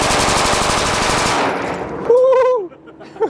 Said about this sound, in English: We finna shoot some guns